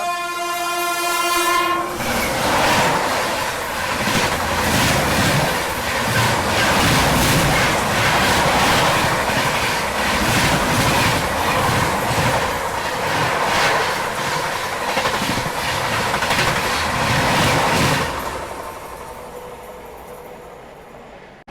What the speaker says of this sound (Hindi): कोई ट्रेन अपनी ट्रेन को ओवरटेक मार रही है यहाँ पर।